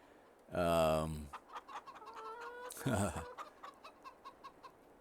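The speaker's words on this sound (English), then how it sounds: "360 capacity chicken pen in here" Chickens in a pen in the Farming Simulator 22 video game give loud, close bursts of clucking and squawking, followed by softer repeated clucks at a steady rhythm.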